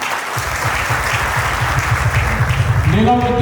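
Graduates at a school graduation ceremony break into loud, sustained applause that begins after a brief pause and fills the room, with voices and a cheer rising near the end.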